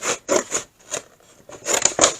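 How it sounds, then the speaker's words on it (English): Scissors snipping through a thin cardboard cereal box, a series of short crisp cuts in uneven bursts with brief pauses between, close and clear with no talking. "And then we'll cut here."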